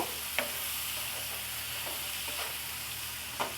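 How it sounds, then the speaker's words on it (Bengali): Shelled bean seeds stir-fried in a hot pan give a steady, even sizzle, broken by a few sharp spatula scrapes and clinks against the pan. "সিমের বিচিটা দিয়ে আমি সুন্দর করে একটু কষিয়ে নিব"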